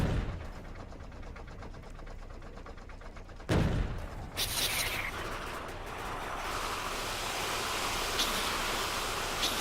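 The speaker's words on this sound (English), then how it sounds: "The machine gun, I think, fires in 360 degrees, which is very nice." Machine gun turrets firing in the video game Factorio against an attack on a defensive wall: a dense, rapid rattle of shots that runs continuously, then swells into a louder, thicker wash of gunfire.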